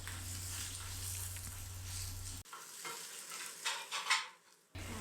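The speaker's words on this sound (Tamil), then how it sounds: "இந்த வெங்காயம் ஓரளவுக்கு நல்லா வதங்கணும்" Finely chopped onions sautéing in a pan for a pepper egg thokku, a steady sizzle with a stirring spoon scraping and tapping midway as the frying briefly quiets.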